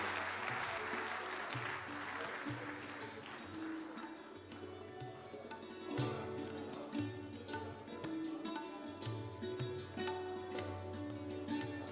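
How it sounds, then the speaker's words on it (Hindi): Audience applause at an official transport-department function, a sustained crowd clapping that swells and persists for about twelve seconds, mixed with a low hum and faint background voices. "इसमें मैं अनुरोध करूंगी कि एक बार जोरदार तालियां जेवी शाह जी के लिए बजाई जाएं"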